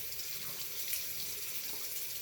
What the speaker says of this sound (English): I'm going to rinse my face with water.